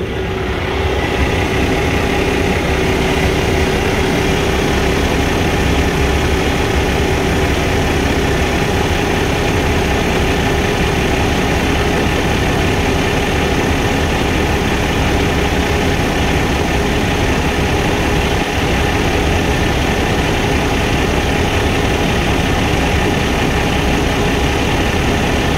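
A 14.9 L Cummins ISX15 turbo diesel idles in a 2013 Volvo VNL truck with 834,000 miles, recorded from underneath: a loud, close, steady low rumble with constant droning vibration and no talk throughout.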